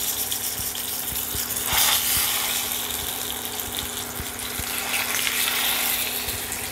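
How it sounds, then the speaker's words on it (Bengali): Pomfret fish frying in hot mustard oil in a kadai, a steady close hiss of sizzling oil with scattered crackles and pops, a brief louder surge of spattering near the middle. "তেল গরম হয়ে গেছে, এবার আমি মাছগুলো ভেজে নেব।"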